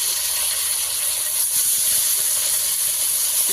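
Bay leaf, whole cumin and chicken sizzle in hot oil, a loud, even, close hiss that holds steady throughout with no voices.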